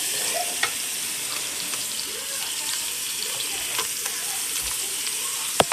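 Loose ground beef and flour frying in a pan, a steady close hiss of sizzle with faint stirring scrapes and a few small pops, no talk.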